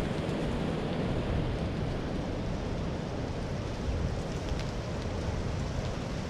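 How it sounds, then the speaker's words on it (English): Steady rain hisses all around a Grand Design RV in a dense, unbroken wash of noise, moderately loud and without voices. "It's starting to rain again."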